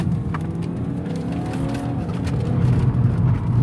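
A car noses out of a junction and pulls away, its engine rumbling steadily and building slightly in volume as it accelerates. No voices are heard.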